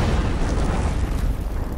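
A film explosion from Rogue One: a dense, loud, low rumbling blast that roars steadily throughout, with no voices.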